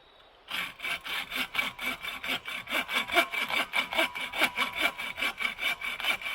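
A handsaw cuts through a piece of wood with a wide branch and knots, close and loud, in steady rhythmic back-and-forth strokes of about two per second that begin abruptly after a brief quiet moment.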